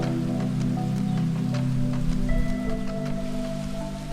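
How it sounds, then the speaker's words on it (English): Rain pours steadily in early spring in New England, heard from under a covered porch as a constant close patter and hiss, with a low hum beneath and no talking. "it just is a totally different soundscape out here when it rains"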